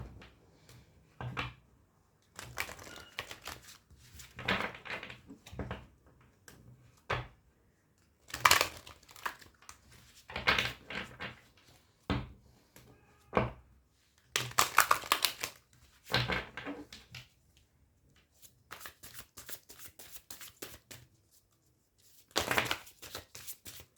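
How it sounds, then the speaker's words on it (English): Tarot cards being shuffled in irregular bursts of riffling and flicking, close and crisp, separated by short pauses. "let me just shuffle our cards and then we'll start"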